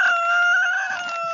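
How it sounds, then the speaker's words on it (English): A rooster crows near a farm where bee pollen is harvested, one sustained strong crow with steady harmonic tones carrying through the whole moment, close and loud with no talk over it. "a nice rooster, I have to say"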